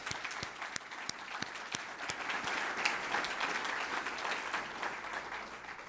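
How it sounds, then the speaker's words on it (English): Audience applause at a planning presentation unveiling Rapid 5 park and waterway designs in Central Ohio, moderately distant and even, with several crisp individual claps near the start as the crowd keeps clapping. "Let's give them another round of applause."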